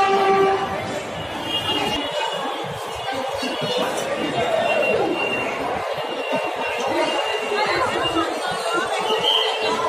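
Busy crowd chatter fills Moti Jheel metro station in Kanpur, with a train's rumble and a tonal horn-like hum underneath, voices overlapping continuously.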